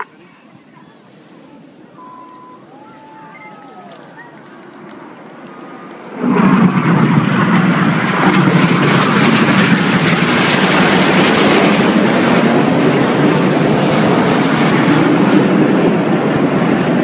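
Red Arrows jets fly the Detonator manoeuvre at a Torquay air display. Faint background calls give way after about six seconds to an abrupt, loud jet roar that stays powerful and sustained to the end.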